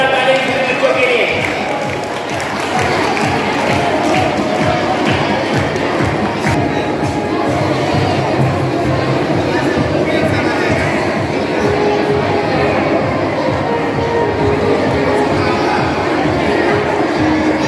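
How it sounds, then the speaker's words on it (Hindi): School prize distribution audience of children clapping loudly and continuously, a dense steady wash of applause with crowd chatter mixed in, close and sustained throughout. "जोरदार तालियां सभी बच्चों के लिए।"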